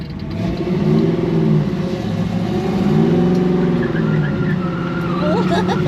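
Big block Chevrolet Nova engine, painted tractor red, revving steadily and close by, its deep rumble rising and falling in long swells with voices talking over it.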